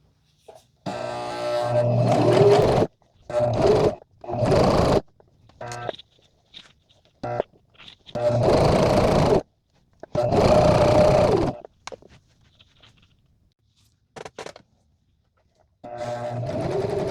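A sewing machine stitches fabric in several bursts of steady mechanical whirring, loud and close, each lasting one to two seconds, with quiet pauses between them.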